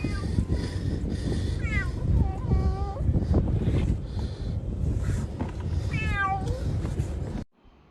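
A cat meows repeatedly, a few rising and falling cries near the microphone, with a rough windy background and some human voice underneath.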